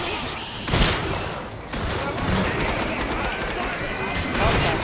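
A grenade blast in the co-op shooter Killing Floor 2, heard as a dense, loud burst of booms and crackling gunfire that keeps going through the whole stretch of game combat.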